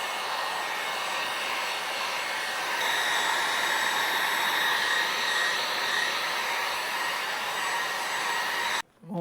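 A heat gun blows a steady, loud hot-air roar across the surface of a Yamaha Superjet before a decal is applied, running continuously and cutting off abruptly at the end.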